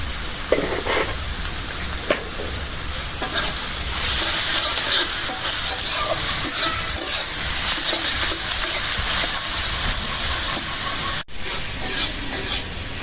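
Onions fry in a pan with salt for a spicy chital fish curry, giving a steady, loud sizzle with occasional stirring scrapes throughout and no talking.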